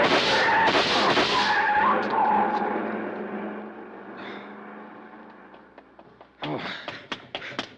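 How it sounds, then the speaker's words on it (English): A long black coupe guns away from a robbed-safe scene in an alley, tires skidding with a loud broadband screech that fades into the distance, followed by a few sharp taps near the end. "See the car, the one that just gunned out."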